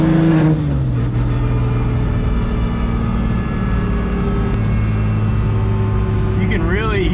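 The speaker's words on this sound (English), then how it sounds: "You can really hear the twin disc clutch." Twin disc clutch and transmission of a tuned 750 hp BMW 135i under way, a loud continuous drivetrain drone with a falling shift in pitch early and a rising whine near the end, heard from inside the cabin.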